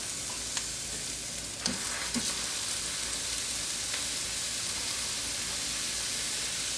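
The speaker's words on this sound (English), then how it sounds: "put the griddle on, medium-high heat. Just a small handful of our pork mixture." Pork breakfast sausage patties fry on a griddle over medium-high heat, giving a steady close sizzle and hiss with a few faint pops and taps throughout.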